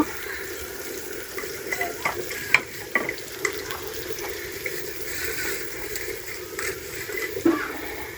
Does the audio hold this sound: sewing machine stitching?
no